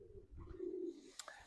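A young racing pigeon returning to its loft after a 101-mile race from Sleaford, giving a soft, low cooing call followed by a brief sharp chirp, fairly faint and close with no voices.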